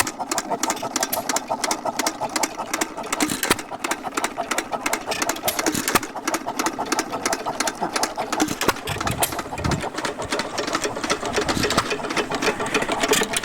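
An antique stationary engine runs steadily close by at a state fair, a rapid rhythmic chugging and clatter that keeps going without pause, with no talking.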